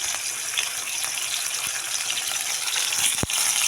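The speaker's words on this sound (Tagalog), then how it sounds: "So, diprito muna natin yung ating pork." Pork frying in hot cooking oil, a steady bright hiss of sizzling that holds close and loud throughout, with a brief clink near the end.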